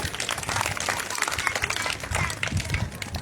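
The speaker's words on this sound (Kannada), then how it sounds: "ಶರಣಾರ್ಥಿ ಅಂದಾಗ ನಾವು ಚಪ್ಪಾಳೆ ತಟ್ಟಬಾರ್ದ್ರಿ" An audience at a devotional gathering claps together, a dense, lively patter of many hands that holds steady and close, with faint voices mixed in.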